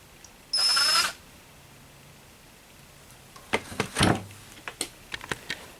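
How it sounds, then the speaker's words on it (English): A power drill whirs in one short burst through three layers of leather, then falls quiet before a series of clicks, taps and rustling handling noises follow nearby. "the next step is to drill our holes"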